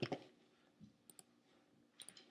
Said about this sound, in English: we do that by double-clicking on this little icon